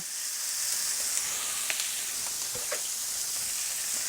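Bavette and flat iron steaks sear in a very hot pan, making a bright, steady, close sizzling hiss with a few crackles and light pan contact sounds, no speech.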